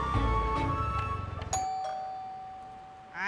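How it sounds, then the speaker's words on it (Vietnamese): A doorbell rings indoors with a bright ding-dong chime that slowly decays into quiet room tone. There is no speech. "Vụ gì bấm chuông dữ vậy?"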